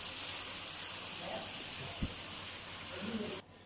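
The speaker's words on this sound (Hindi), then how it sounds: "यहाँ 1 से 2 मिनट के लिए हम मसाले के साथ भूनेंगे।" Okra and fried potatoes sizzle in a pan while being sautéed with masala, a steady close hiss that runs unbroken and then cuts off abruptly near the end.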